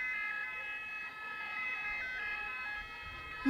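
An ambulance siren wails steadily in a traffic jam, a continuous tonal siren held at moderate distance throughout, with a sudden louder burst of nearby noise at the very end.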